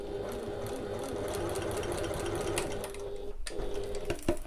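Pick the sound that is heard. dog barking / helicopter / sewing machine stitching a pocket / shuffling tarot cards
sewing machine stitching a pocket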